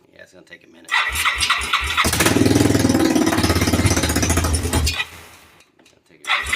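A Yamaha Timberwolf ATV engine with no muffler fires up and runs loud and raw, a harsh rapid clatter that holds for several seconds before cutting back, with brief catches of sound around it.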